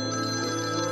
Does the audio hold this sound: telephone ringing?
yes